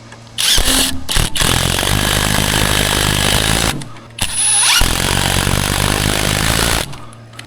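A power driver whines loudly in two long runs, driving Simpson 2.5 inch hardware screws into a deck joist, close up with a short gap between screws.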